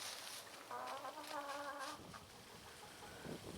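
A hen clucks in short repeated bursts, fairly close, with a steady outdoor background hiss behind it.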